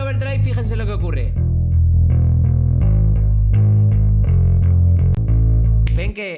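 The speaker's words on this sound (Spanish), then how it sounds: "Pero si le añado el overdrive, fíjense lo que ocurre." A bass guitar plays a steady run of low notes through overdrive distortion, loud and close with a gritty, buzzy edge, and the opening is smeared by a quick sweeping effect.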